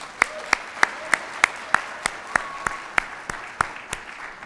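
A lone person claps slowly and steadily at a city event honoring junior mayors, about fourteen crisp, evenly spaced claps, fairly close, over quiet room tone.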